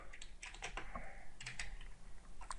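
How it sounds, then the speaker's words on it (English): Close, quick keystrokes on a computer keyboard in a quiet room, with a short burst of light, uneven clicks and no speech. "So just type plus here"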